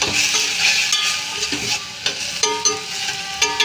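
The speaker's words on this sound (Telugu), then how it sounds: "వేగుతున్నాయి కదండి దీంట్లో సాల్ట్ వేసేద్దాం" Capsicum and tomato fry in a steel pan, with a close sizzle and repeated sharp scrapes and taps of stirring near the end.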